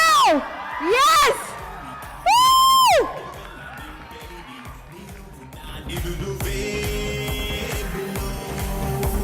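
A crowd at a film success celebration cheers and whoops, with shrill whistles near the start, then a swelling wash of applause and shouting that keeps building to the end.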